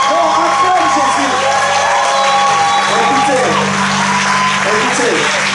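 Church congregation applauding and cheering, dense clapping with shouts and whoops from a crowd, loud and sustained throughout, voices calling out over it.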